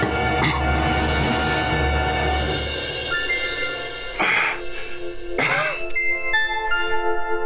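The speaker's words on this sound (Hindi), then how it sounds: "मेरे से खांसी हो रही है।" A person coughs and clears their throat a few times in harsh bursts over a droning background with music.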